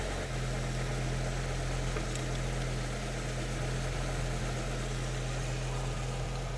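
An Audi Quattro engine idling during idle adjustment, a steady low hum with a constant drone and faint mechanical hiss, even and unchanging throughout, heard close with no talk.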